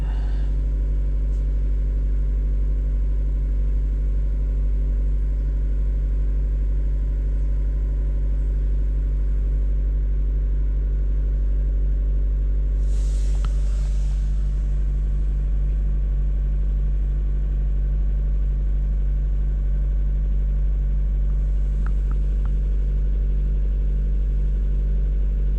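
A Mazda MX-5 Miata sits idling with its engine running as a constant, even low hum, steady throughout, with faint intermittent clicks and no talk.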